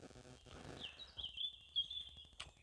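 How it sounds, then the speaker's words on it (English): Small birds chirp and trill in sunlit woodland on a warm day, with a brief run of bright high notes and quick twitters over faint rustling and low background noise. "listening to the birds singing"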